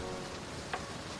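Steady rain falls in a video game scene, a soft even wash of drops with one brief brighter tick partway through, no voices.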